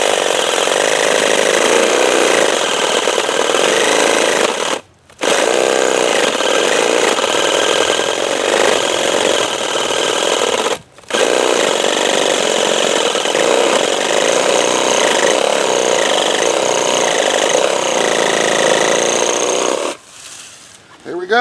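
A Sawzall reciprocating saw cuts through the trunk of a juniper Christmas tree outdoors, a loud, close, continuous buzzing drone with brief pauses near five, eleven and twenty seconds before the cutting resumes.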